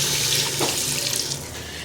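Water runs steadily from a tap into a cooking pot of degi aloo gosht, a small amount poured to thin the curry, a continuous close splashing stream that cuts off sharply near the end.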